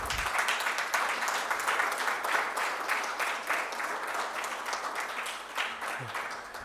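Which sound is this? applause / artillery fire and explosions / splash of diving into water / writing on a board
applause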